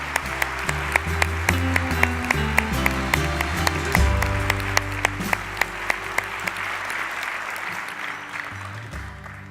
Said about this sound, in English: Let's give these 3 finalists another round of applause.